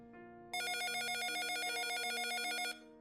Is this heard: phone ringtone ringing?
yes